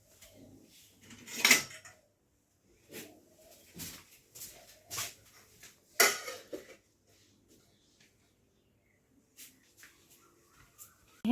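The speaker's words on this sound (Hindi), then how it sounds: "उससे बढ़िया अपना जो है दोपहर बर्तन वगैरह धुल लेती हूँ" Dishes and utensils being washed at midday, with sparse clinks and clatters of pots and cutlery spread across quiet pauses, a few louder knocks standing out.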